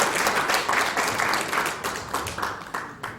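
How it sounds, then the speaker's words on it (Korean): Audience applause welcoming a pastor to the lectern at a Korean church mission policy conference, steady clapping from a roomful of people filling the space evenly before tapering slightly at the end. "박수로 환영하겠습니다."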